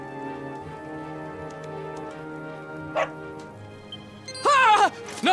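Dog barking in Dragon Quest XI: a couple of short yipping barks rise near the end over steady game music, with one brief yelp earlier.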